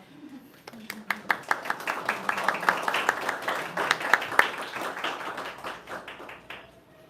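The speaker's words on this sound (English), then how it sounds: "May we clap very softly for you?" An audience at a college senior history presentation claps softly, a quick patter of many light hand claps that holds steady for several seconds before thinning out, with faint voices underneath.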